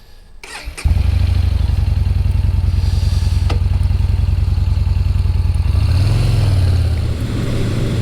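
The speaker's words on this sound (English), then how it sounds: "I am currently riding Yamaha's 2017 SCR950" A 2017 Yamaha SCR950 retro scrambler with a V-twin engine fires up and pulls away, its deep, even, throbbing exhaust loud and close, with a short rev swell near the end.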